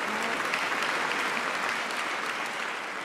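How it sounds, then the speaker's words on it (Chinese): A large audience applauds warmly to welcome President Xi Jinping's keynote speech, with dense, steady clapping that holds at an even level for about three seconds. No voices rise above it. "让我们以热烈的掌声，欢迎习近平主席发表主旨演讲"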